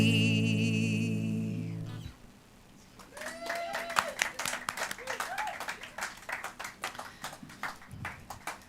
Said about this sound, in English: I know it sounds like you're clapping